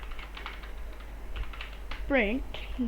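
Typing on a computer keyboard while entering Python code: soft, quick clicking keystrokes, close and fairly faint, with a voice talking over them.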